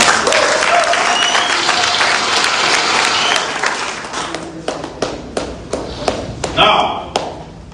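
Rally audience applauding loudly in a dense, continuous wash of clapping that thins after a few seconds into separate, rhythmic claps and thumps.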